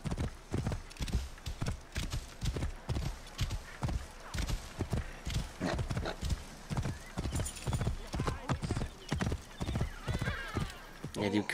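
A horse ridden at a steady pace in Assassin's Creed Origins, its hooves clip-clopping in an even, regular rhythm that carries on throughout, with a voice talking over the hoofbeats.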